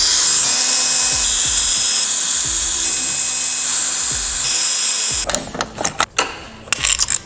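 Power tool running steadily for about five seconds while unscrewing the gearbox screws on a Derbi Senda R moped, followed by a few short clanks and knocks of handling metal parts.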